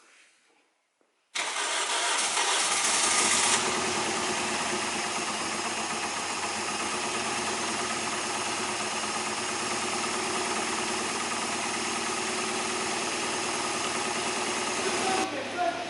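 A turbocharged Toyota Yaris engine cranks and fires, then settles into a loud, steady, slightly rough idle that runs on close by with no talk over it.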